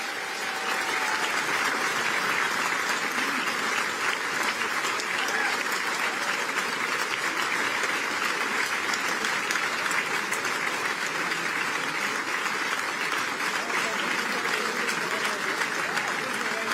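A large awards-ceremony audience at the 2024 EY Entrepreneur of the Year Awards claps steadily and loudly, a dense, unbroken wash of applause that holds at an even level for the whole stretch, with no voices standing out.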